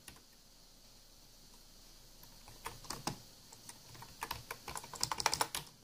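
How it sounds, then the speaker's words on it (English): Touch typing on a computer keyboard runs as quick, light key clicks that start sparse and grow into a dense, busier patter toward the end, close by and fairly quiet, with nobody talking. "We are touch typing here."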